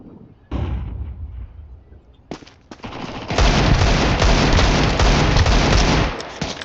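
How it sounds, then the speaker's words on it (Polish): A flashbang grenade goes off in Counter-Strike 2 with a sharp burst, followed by a loud, sustained ringing blast that holds for several seconds before dropping away, after scattered clicks and game noise. "Deploying flashbang."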